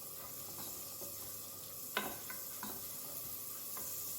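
Butter and oil sizzling in a pan while browning, a faint steady frying hiss with a few soft clicks and a small clatter, no voices.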